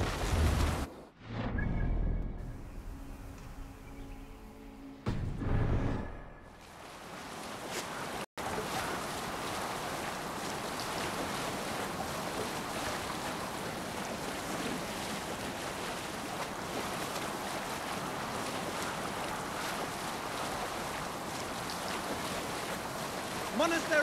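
Viking longship sailing over open sea in Assassin's Creed Valhalla, a steady broad wash of waves and wind continuing throughout after a few brief quieter moments at the start, with faint voices in the background.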